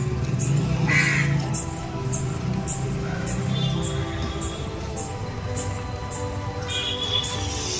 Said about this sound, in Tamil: காக்காக்களும் வெயிட் பண்ணின்னு இருக்குது.